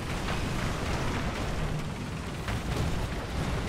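Flak cannon fire in the War Thunder tank battle game, a continuous rumbling wash of distant booming bursts and explosions, fairly faint and broad, with no talk over it.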